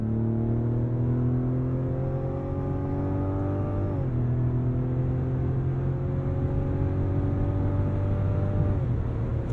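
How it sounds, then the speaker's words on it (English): Inside a Mazda CX-90 Turbo S in sport mode, the six-cylinder engine pulls hard through the gears, its rising whine broken by two quick upshifts, heard steadily from the cabin. "It's a good noise. I love a six-cylinder. Excellent soundtrack."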